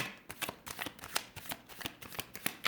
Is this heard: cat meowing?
no